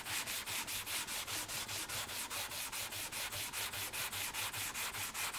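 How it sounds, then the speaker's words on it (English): Wood veneer is sanded by hand in steady, rhythmic back-and-forth strokes, close and even, about four strokes per second, with no voices. "I look at this more like it's planing wood than it is sanding"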